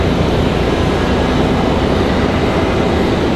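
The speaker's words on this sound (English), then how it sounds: "1 hour and 27 minutes of flight time for this 737-800. That one arriving here in just a moment." Southwest Boeing 737-800 jet arriving at RDU airport, a loud, steady broadband engine roar filling the whole stretch without pause.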